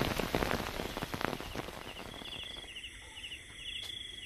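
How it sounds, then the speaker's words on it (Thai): Heavy rain pours steadily at night in the countryside during an overnight fishing trip, a dense close hiss of drops drumming on surfaces with faint insect or bird calls in the background. "บรรยากาศตรงกลางคืนฝนตกแบบนี้ก็เย็นดีครับ"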